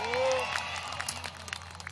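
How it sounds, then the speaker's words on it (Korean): Audience clapping at a jazz concert, a moderate spread of claps in a hall that begins as a voice trails off and continues unevenly, fairly soft throughout. "박수 많이 쳐주실 거죠?"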